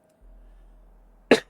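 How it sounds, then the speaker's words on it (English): A single sharp cough bursts out near the end, loud and close, after a stretch of quiet low hum from a computer-game session. "so I apologize for the coughing"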